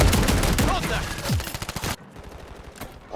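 Shotgun fire in a multiplayer shooter video game: a dense run of loud, close gunshot blasts that stops abruptly, followed by quieter game sounds and a final shot.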